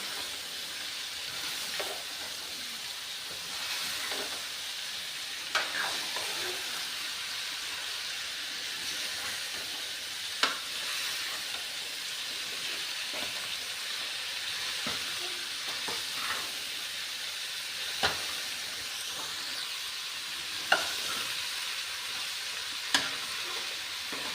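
Chopped potatoes and carrots fry in spices in a pan, giving a steady close sizzle and hiss broken by occasional clinks and scrapes of stirring, with no talking.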